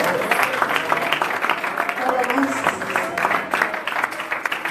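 A church congregation applauds during a prayer sermon, a sustained wash of many hands clapping at close range for several seconds, with voices and faint tonal sounds threaded underneath.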